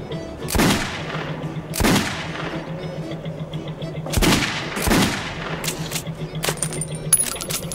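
Sharp gunshots ring out in a video game gunslinging contest, several loud separate cracks at uneven intervals over a quiet background hum.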